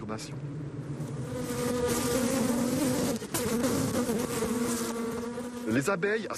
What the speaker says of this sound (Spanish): el canto de las abejas obreras, una señal de que la colmena está siendo perturbada